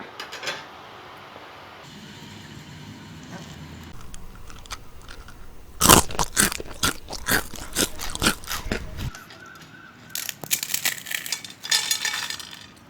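Crispy thenkuzhal murukku being bitten and crunched close up, a burst of loud sharp crunches in the middle followed by more quieter crackling chews.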